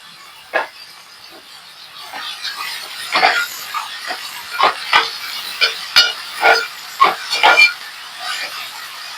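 Okra curry sizzling as it fries in a pan, a steady hiss with irregular bursts of crackling and popping, close and fairly loud with no talk.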